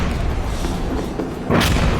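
An artillery shell explodes in the shooter game Insurgency Sandstorm, a deep booming thud rising sharply near the end after a stretch of rumbling battlefield noise.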